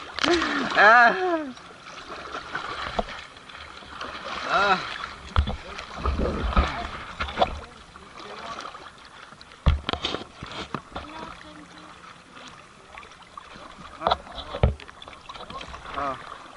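Water sloshes and splashes around a small boat rocking on waves, irregular slaps and bursts close by, with people talking and shouting excitedly throughout.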